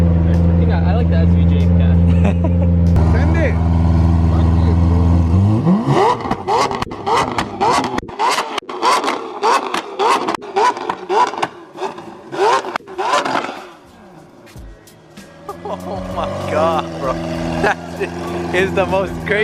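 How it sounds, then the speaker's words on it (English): Engines at a JDM car meet, including an Aventador SV and a BMW E92 M3: a steady idle, then a rising sweep into a run of sharp repeated revs and crackles, fading to idle, with people talking over it. "craziest revving ever."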